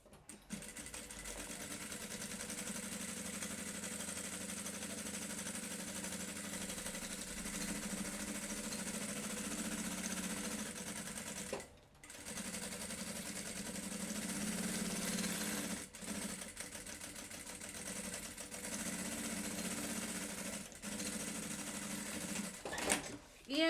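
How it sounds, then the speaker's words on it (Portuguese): A sewing machine stitches around a lunch bag piece with a continuous, fast mechanical whir, pausing briefly a few times, while someone talks over it. "E aí agora eu venho costurando aqui ao redor na minha peça."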